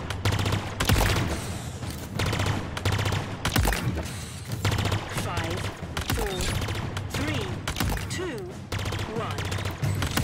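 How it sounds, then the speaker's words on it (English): Halo Infinite pulse carbine firing quick energy bursts, dense rhythmic volleys close and loud throughout, with game effects and a voice talking underneath. "Okay, I'm liking this pulse carbine."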